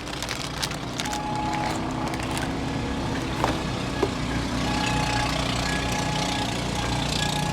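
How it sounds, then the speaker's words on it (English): A boat engine drones steadily as it passes at moderate distance, a low continuous hum with faint scattered clicks and knocks layered over it and no speech. "as another boat goes by"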